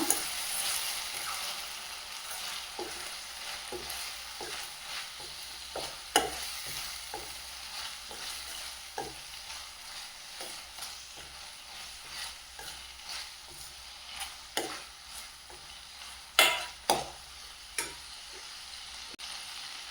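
Cumin powder is stirred into tomato dal frying in a pan, a low steady sizzle punctuated by repeated close spoon scrapes and taps, with no voices.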